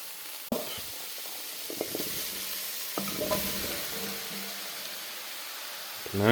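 Vegetables including leeks hit a hot pan and sizzle steadily, a loud continuous hiss with a few clinks and stirring scrapes throughout, no talking.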